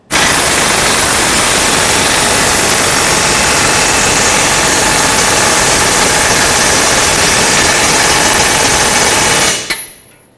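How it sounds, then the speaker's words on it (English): An air impact wrench runs down the lower strut bolt on a 2009-2014 Ford F-150 during lower control arm replacement: one long, loud, continuous rattling burst close by, ending sharply. "I'm just going to run it down very tight with my air impact"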